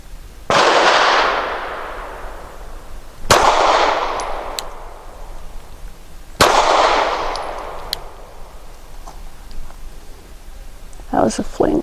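A Sig P365 SAS pistol firing Federal Syntech 147 grain rounds outdoors, three sharp loud shots spaced a few seconds apart, each with a rolling echo tail, followed by faint clinks and small handling noises.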